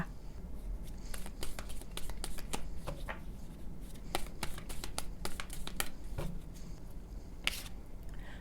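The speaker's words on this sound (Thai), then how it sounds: "ต่อไปแม่หมอเปิดไพ่ออราเคิลเสริมให้นะคะ" Oracle cards being shuffled by hand close up, a steady, quiet run of riffling flutters and soft slaps, with no voices.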